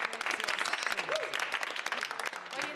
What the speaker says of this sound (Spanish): un aplauso para los chiquillos.